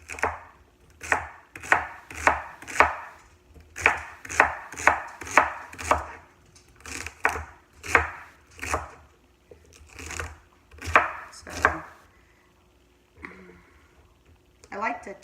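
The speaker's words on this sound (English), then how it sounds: "I just need to trim them up. I would just do bite-sized, 1/2 inch to 1 inch slices." Celery is chopped into bite-sized slices on a cutting board, with a series of sharp, close knife thunks in a loose rhythm and a short pause before a few final cuts.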